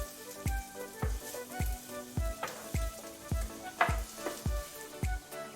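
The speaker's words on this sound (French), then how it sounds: "la moitié de notre oignon. Voilà. On va faire revenir pendant 5 minutes." Half an onion fries in a pan, with a steady sizzle and regular stirring or scraping strokes about twice a second, close and moderately loud, with no talking.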